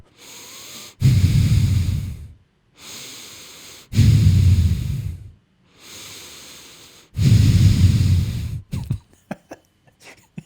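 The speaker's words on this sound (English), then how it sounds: "Heavy breathing. Down your neck." Slow, heavy breaths close to the mic, three long drawn-out exhales in a steady rhythm with short pauses between, ending in a few faint clicks.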